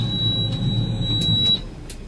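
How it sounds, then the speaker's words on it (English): A high-pitched electronic alarm beeps as one steady tone for about a second and a half, then cuts off, loud and near over a low rumbling background. "That fucking alarm, man."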